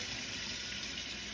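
Hot water running from a tap into a large home-brewing pot, a steady broad rushing gush, close and continuous, with no voices over it.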